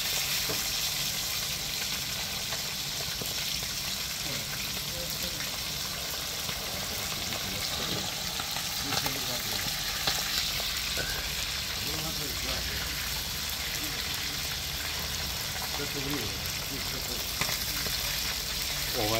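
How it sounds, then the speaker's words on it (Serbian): Fish frying slowly over an open fire, a dense, even sizzle that fills the whole stretch, with people talking casually over it. "Ovo se prži polako, lepo"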